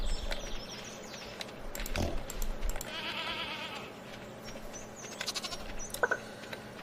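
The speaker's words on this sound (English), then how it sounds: "The goat ran way off." A goat in the farming video game Stardew Valley bleats in a short wavering burst midway, set against soft game ambience and small clicking effects, moderately near and not overlapped by talk.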